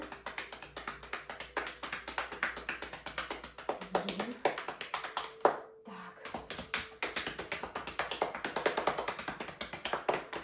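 Hands tap steadily on the body during a morning exercise routine, a fast, continuous patter of close, light slaps that pauses briefly midway before resuming.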